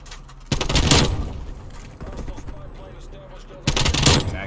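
Gunfire erupts in the video game Call of Duty, sharp loud bursts of rapid shots at the start and end with quieter game sounds between and some talking.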